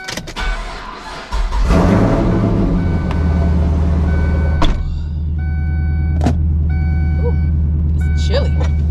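A Chevrolet Camaro engine cold-starting: a brief starter crank then a loud, steady idle rumble close up, with a few faint chirps and beeps over it.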